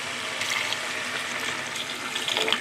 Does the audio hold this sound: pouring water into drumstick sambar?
yes